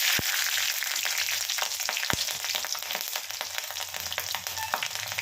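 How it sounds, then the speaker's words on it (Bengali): Green chilies fry in hot oil with a steady bright sizzle and two sharp, loud crackling pops early on, plus scattered smaller spits, close and alone without speech. "কাঁচা লঙ্কা একটু ফাটে, সাবধানে করবেন"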